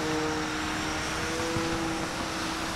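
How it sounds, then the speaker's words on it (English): A remote-controlled airplane built from Lego, flying unsteadily with wing rock, gives a steady propeller-and-motor drone with a constant tone, moderately loud and continuous against outdoor air noise. "I believe this is the world's first Lego airplane that is capable of flight"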